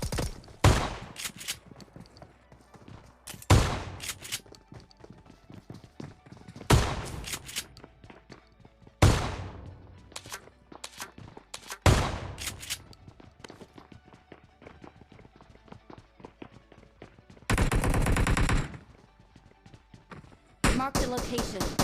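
Shotgun blasts in a squad-based shooter video game: about five sharp, loud single shots spaced a few seconds apart, then a longer burst of rapid fire and another volley at the end.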